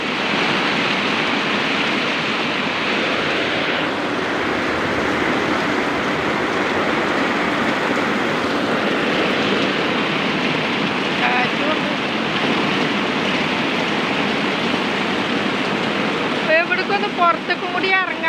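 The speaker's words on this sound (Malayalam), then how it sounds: "അപ്പോഴേക്ക് മഴ പെയ്യല്ലേ നല്ല മഴയാണ്" Heavy rain pours outside a house in a constant, dense roar that fills the whole stretch, with a voice briefly speaking over it just before the end.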